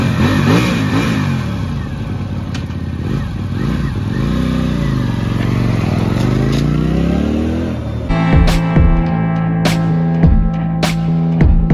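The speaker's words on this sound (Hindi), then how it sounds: "हम चला रहे हैं बैंडा की 300 V, लेट्स गो।" A Keeway Benda 302V motorcycle on a test ride, its engine droning and rising in pitch, then revving in sharp repeated bursts near the end, loud and close.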